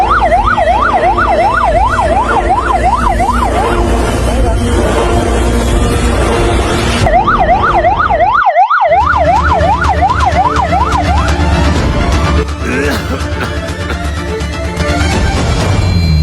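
An ambulance siren wails loud and close, a fast rising-falling yelp that cycles for several seconds, cuts out briefly, then returns before giving way to a steadier rising tone over engine and road noise.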